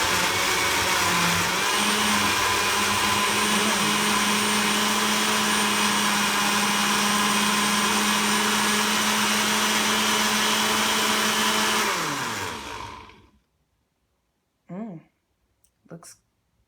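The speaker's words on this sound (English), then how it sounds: "And I'm going to blend" A kitchen blender whirs loudly and steadily for about twelve seconds while blending a smoothie, its motor pitch holding then winding down to a stop, followed by a couple of brief soft knocks.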